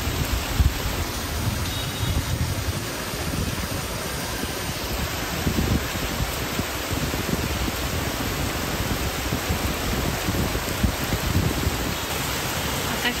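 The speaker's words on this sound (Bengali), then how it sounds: "আজকের বৃষ্টির একদম কুল নাই। ছাদে দেখেন কি পরিমাণ পানি জমে গেছে।" Heavy rain pours down onto a rooftop where water has pooled, a steady, dense hiss of falling drops that continues without a break and without talk.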